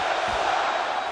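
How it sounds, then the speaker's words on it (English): A home crowd at the 2016 Stanley Cup Finals, an NHL hockey game, roars in a dense, steady wall of noise, with a low drawn-out chant rising from the packed arena throughout. "But the chant of the home crowd is for their team."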